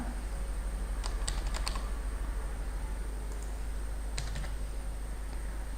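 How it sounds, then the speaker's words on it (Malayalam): Computer keyboard typing in a quiet room, with scattered clusters of light key clicks over a steady low hum. "ആ ഫോർമാറ്റിലേക്ക് നിങ്ങളുടെ ആൻസർ മാത്രം ടൈപ്പ് ചെയ്യുക"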